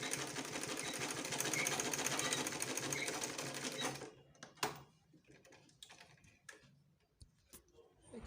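A sewing machine stitches a folded quarter-inch hem on a dolman dress, running in a fast steady close rattle for about four seconds before stopping, followed by scattered clicks and handling sounds.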